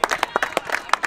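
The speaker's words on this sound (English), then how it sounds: "I clap Jim off" A small group claps for a goalkeeper coming off during a Sunday league football match, a loose run of scattered hand claps close by and moderately loud.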